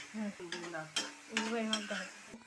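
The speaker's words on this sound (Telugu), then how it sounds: "పచ్చివాసన పోయిన దాకా కారం వేగాలి" Chili powder frying in a pan while it is stirred, with short scraping strokes of a spatula over a faint sizzle, close and fairly quiet.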